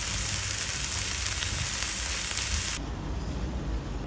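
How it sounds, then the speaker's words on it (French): Zucchini sautéing in olive oil with onions and garlic, heard as a loud, dense, steady sizzle up close that changes slightly in tone near the end, with no talk. "je vais juste les faire revenir dans un peu d'huile d'olive avec des oignons et de l'ail"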